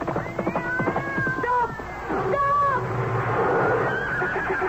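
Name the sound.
cat meowing and horse neighing, radio drama effect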